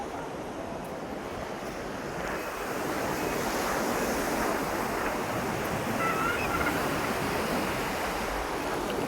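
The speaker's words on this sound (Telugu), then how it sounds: "అంతర్వేది బీచ్" Surf rolling steadily onto Antarvedi beach, a continuous broadband wash of breaking waves with wind noise buffeting the microphone, fairly loud and unbroken throughout.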